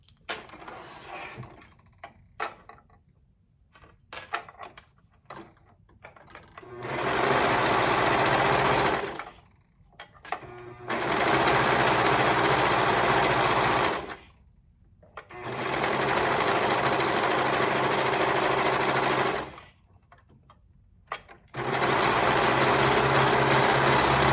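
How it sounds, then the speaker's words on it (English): A sewing machine stitches a seam with a half-inch allowance, running in four loud sustained bursts of several seconds each, separated by brief quiet pauses with small handling clicks. "go ahead and attach with a 1/2 inch seam allowance"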